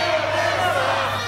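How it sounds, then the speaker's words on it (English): A wrestling event crowd chanting and cheering: a loud, dense wall of many voices in a large hall, sustained through a brief moment. "The crowd chanting, Rivers sucks, Rivers sucks"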